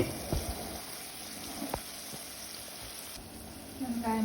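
Small onions, curry leaves, green chillies, cinnamon, cloves, cardamom, fennel and cumin sauté in coconut oil for a mutton curry, giving a faint, steady sizzle with a few sharp crackles and pops.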